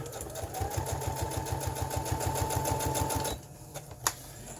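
A sewing machine stitches paper tabs for a junk journal, its rapid needle running in a steady mechanical rhythm for over three seconds before stopping, followed by a couple of faint clicks and handling sounds.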